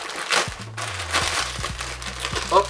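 Plastic packaging from an ASOS parcel crinkles and crumples as it is unwrapped, a close, brief rustle with small crackles and a faint background hum.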